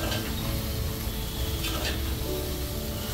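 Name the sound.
stirring spiced cauliflower and potato sabzi frying in a pan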